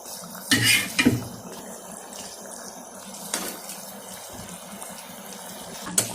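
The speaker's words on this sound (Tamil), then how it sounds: "பாருங்க, அந்த கிரேவி கொதிக்குது." Thick egg gravy bubbles and simmers steadily in a pot, with a couple of sharp utensil clinks near the start and a faint hiss throughout.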